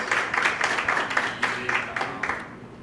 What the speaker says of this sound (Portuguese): Uma salva de palmas, pessoal, por favor, para eles